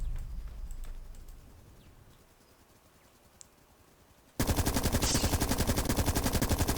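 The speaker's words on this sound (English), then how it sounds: "here's a scenario with 4 turrets, which I'm going to activate actually right now." Four automated gun turrets open fire in the sci-fi strategy game The Red Solstice, starting suddenly after a quiet stretch as loud, dense rapid bursts that hammer on steadily without a break.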